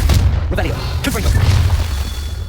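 A Confringo spell blast in Hogwarts Legacy thumps and crackles as a short low boom amid game sound effects and bursts.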